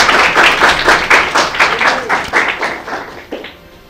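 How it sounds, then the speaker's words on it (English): A small group clapping for a student stepping up to a school podium at a college open evening, close, loud and rhythmic with distinct individual claps that gradually thin and fade out. "Give a round of applause for Vakaria as she takes the podium."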